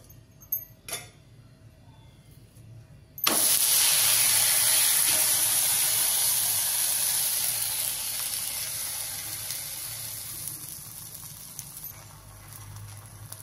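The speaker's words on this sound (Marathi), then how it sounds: "तवा गरम झालेला आहे आपला, थोडंसं तेल टाकते तव्यावरती।" A sudden loud sizzle bursts in after a quiet moment as a little oil hits a hot tava for dahi dhapate, and keeps hissing steadily, slowly fading a little, close by.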